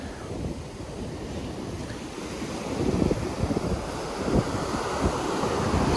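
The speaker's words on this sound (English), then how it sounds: "Some pretty big waves this morning." Big Atlantic Ocean waves on an Outer Banks beach in the morning: a steady roar of surf with heavier crashes as waves break, wind buffeting the microphone, no voices.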